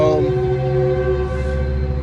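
A train rolls past loudly, its heavy steady rumble carrying a long sustained horn-like tone throughout.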